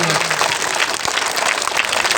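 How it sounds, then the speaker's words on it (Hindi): Dense, steady applause from a school audience at a play of Andher Nagri Chaupat Raja, loud and close, filling the whole stretch without pause. "एक बार जोरदार तालियां इसके लिए"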